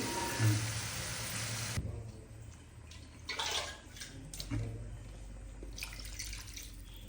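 Water runs steadily from a tap at first, then cuts off, leaving quieter splashes and handling noises.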